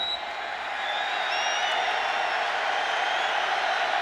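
Stadium crowd at an NFL football game between the Indianapolis Colts and Jacksonville Jaguars: a steady, roaring wash of cheering and whistling that holds loud and unbroken throughout.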